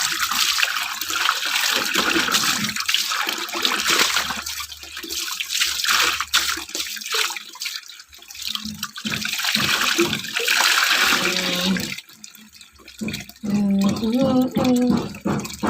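Hand-washing laundry in water, with repeated wet splashes and sloshing close by, broken up by voices talking and brief vocal sounds.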